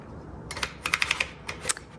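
A burst of typing on a 1956 Underwood manual typewriter: about a dozen quick, close key strikes in an uneven rhythm with sharp clacks and a small bell-like ping near the end, in a quiet room.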